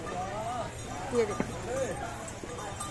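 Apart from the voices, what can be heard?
horse hooves clip-clopping on Vaishno Devi pilgrimage path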